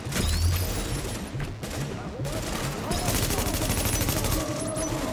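Rapid bursts of gunfire from the video game The Division play continuously and loudly, with repeated automatic volleys in the shooter.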